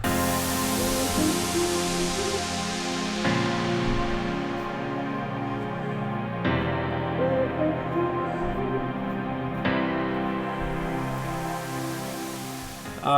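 A full mixed song plays with sustained strings, grand piano and soft synth pads beneath a sung vocal line, steady and fairly quiet throughout.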